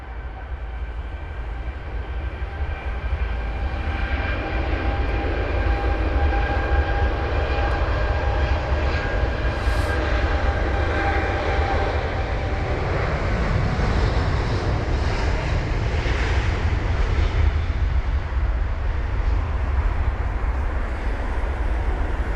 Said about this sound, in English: BA223 on the runway off to Nashville. It's Boeing 787 Dreamliner